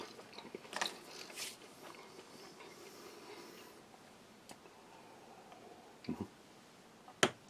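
Crispbread from a Czech army 24-hour ration being bitten and chewed, a few sharp crunchy bites and scattered quieter crunches at close range over a soft background.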